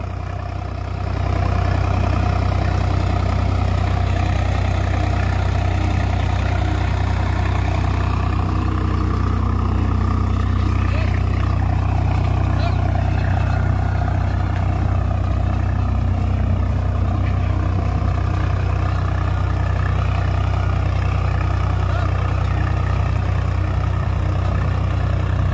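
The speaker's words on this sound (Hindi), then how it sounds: "उस हिसाब से ट्रैक्टर को चला के देखेंगे। ये अभी हाई के फर्स्ट गियर के साथ में है," A Swaraj 735 FE diesel tractor engine runs in high first gear, a loud, steady low rumble and chug throughout with no speech.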